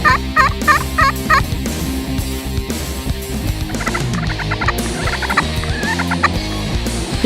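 A wild turkey tom gobbles repeatedly in spring woods, answering box and slate calls, several rapid rattling gobbles close and loud amid other fowl clucks and yelps.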